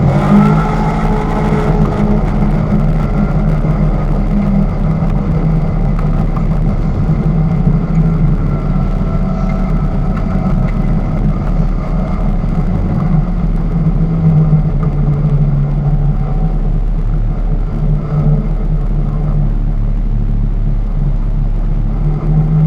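Off-road vehicle engine rumbling steadily on a backcountry trail in the Ozarks, heard up close from the cockpit with continuous low drone and slight changes as it shifts gears.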